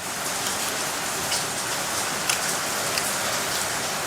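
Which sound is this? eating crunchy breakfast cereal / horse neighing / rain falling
rain falling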